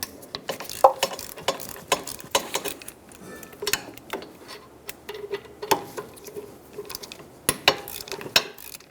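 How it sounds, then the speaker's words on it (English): A 14mm socket on a ratchet loosens the two rear brake caliper bracket bolts on a 2010-2014 Subaru Outback, giving quick, irregular clicks and metallic taps close by, with short pauses between bursts. "Using a 14mm socket, remove the 2 caliper bracket bolts."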